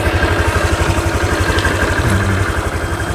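A Honda Click 125i V2 scooter engine idling close up, a steady low pulsing putter with a faint mechanical rattle, no talking.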